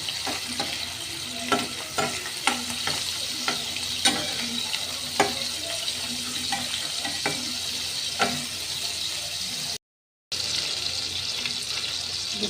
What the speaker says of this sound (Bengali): চিংড়ি মাছটা আমি পাঁচ মিনিটের মতো ভাজছি